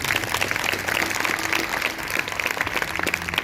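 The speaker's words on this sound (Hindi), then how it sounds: "अगर आई है तो जोरदार तालियां बजाओ" A Sunday church service audience gives steady, dense applause throughout, fairly loud and continuous, with no gaps.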